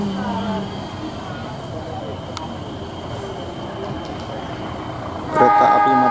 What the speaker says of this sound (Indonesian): Ini dia kereta api Matarmaja udah jalan dari stasiun Pasar Senen.